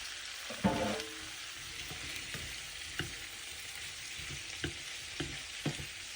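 Boiled baby potatoes frying in oil and butter, a continuous close sizzle broken by a series of soft, regular scraping stirs and a heavier clatter near the start; no voices.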